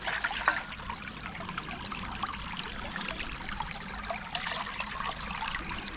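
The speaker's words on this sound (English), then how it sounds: "Nice little stream." Small woodland stream trickling and splashing close by as a container is filled, a steady soft gurgle with a few brief louder splashes.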